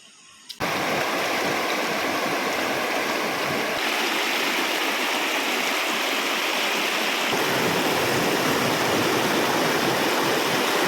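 A large flowing river where locals dam the current to catch fish gives a loud, continuous rushing roar close by, steady throughout after a brief quiet start.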